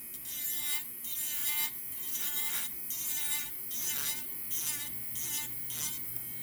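Electric nail drill (e-file) filing the smile line on acrylic nails during a pink and white back-fill: a steady high-pitched whine that rises and dips in pitch in repeated passes, close and continuous, with no talking.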